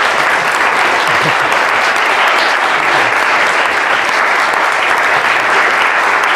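Loud, sustained applause fills a lecture hall after a history talk, a dense, even roar of many hands clapping close by, with no voices over it.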